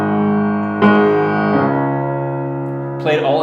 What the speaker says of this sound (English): played all in octaves by the low strings